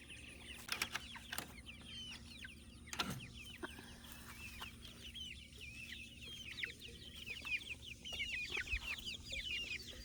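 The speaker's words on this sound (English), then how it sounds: "let me let you have a peek at the chickens." Several chickens cluck and chirp in a steady, busy chorus, with a few louder bumps and scuffs nearby.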